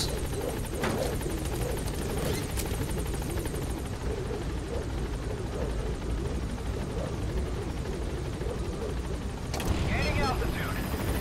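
The Pequod helicopter from Metal Gear Solid V hovers at a landing zone, its loud continuous rotor drone and engine roar filling the scene, with occasional sharp bursts and a radio voice speaking over it.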